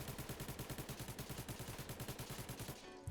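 Rapid automatic gunfire from a gun in Roblox Jailbird Remastered, a fast, even burst of loud shots that runs steadily for about three seconds before stopping.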